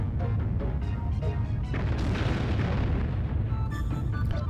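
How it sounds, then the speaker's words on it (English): Heavy rumbling booms of boulders falling in the game Alundra, dense and continuous with low-end thumps and bursts, sounding distant yet loud and filling the scene without any voices. "A distant thump is heard, as if something large were shifted outside."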